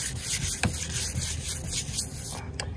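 120-grit sandpaper is rubbed by hand across a truck body during surface prep, a close, continuous scratchy rasp in quick back-and-forth strokes with a few sharper scrapes.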